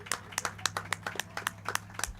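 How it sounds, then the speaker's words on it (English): A small group claps for the Super Bowl champions from Alcoa at a coaches show, a sparse, fairly faint scatter of separate handclaps over a low steady hum. "let's give a round of applause to the Super Bowl champs, Alcoa AU"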